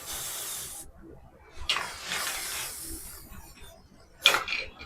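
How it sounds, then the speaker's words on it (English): Aerosol spray can coating small antique brass items in black paint, giving short hissing bursts with brief pauses between them, close and fairly quiet. "So just a little spray paint of black"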